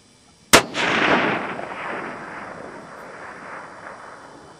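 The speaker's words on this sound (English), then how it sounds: "Another shot at a mile." A single sharp, loud long-range rifle shot fired at a target a mile away, followed by a long rolling echo that fades slowly over several seconds in open country.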